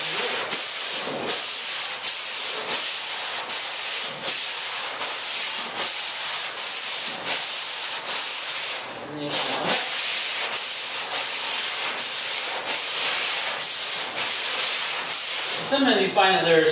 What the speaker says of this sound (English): By spreading the paper out on an angle, you kind of work a whole piece of paper at once